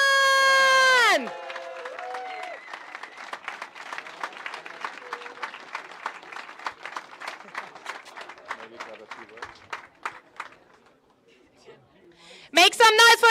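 A crowd at the FPT Geneva 2024 freestyle football tow-in finals cheers and applauds steadily, with dense clapping under an announcer's amplified voice, fading near the end before a loud burst returns.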